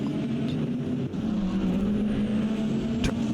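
Race cars, including a BMW, lap the Indianapolis road course in an IGT series race, their engines giving a continuous loud roar that rises and falls slightly, with a sharper burst near the end and no talking.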